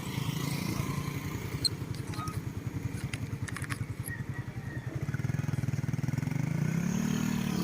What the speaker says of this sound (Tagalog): Ayan po, may mga motor na dumaan mga kabayan, oh.